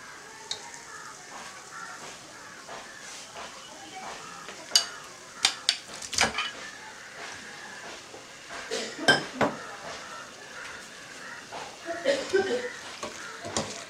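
Beef is stirred into cooked-down tomato masala for a Kerala-style beef curry, with a low steady sizzle in the pan broken by several sharp spoon clinks against the metal.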